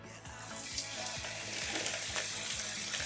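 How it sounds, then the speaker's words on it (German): Chicken pieces frying in oil in a preheated pan, a steady close sizzle with faint rhythmic clicks underneath, no one speaking. "Dann geben wir das Öl hinzu und braten unsere Hähnchen an."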